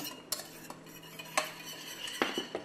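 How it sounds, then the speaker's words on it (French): A whisk stirring butter into a vanilla sauce in a pan, with soft scraping and a few light clinks of metal against the pan, close and moderately quiet. "Je rajoute le beurre au fur et à mesure et on continue à fouetter"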